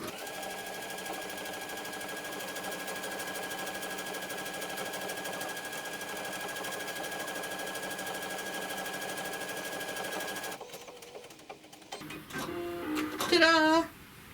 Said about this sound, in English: let's just make a buttonhole